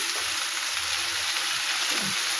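Coriander and cumin hitting hot oil in a home kitchen, giving a loud, dense, steady sizzle and crackle that holds throughout, close up and without voices.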